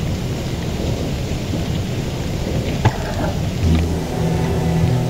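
Heavy rain pours steadily in the Don't Starve video game while thunder rumbles, with a sharp crack near the middle and a deeper rolling rumble toward the end, no voices over it.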